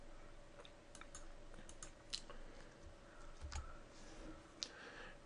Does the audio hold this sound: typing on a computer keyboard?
yes